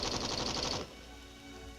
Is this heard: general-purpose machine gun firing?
yes